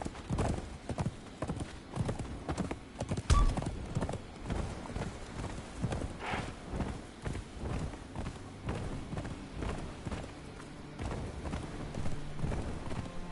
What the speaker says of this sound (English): And I can take Mr. Horsey with me.